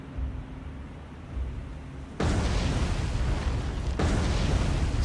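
Torpedo hits exploding against an enemy warship in the naval combat game War on the Sea, two heavy booming blasts in quick succession with a roaring rumbling tail, loud and close.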